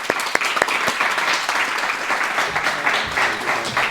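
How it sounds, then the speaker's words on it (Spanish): A hall audience applauds steadily after an invitation to clap at a talk on flooding in Letur, a dense wash of hand claps filling the room with a few sharp louder claps near the start. "vamos a darle un gran aplauso"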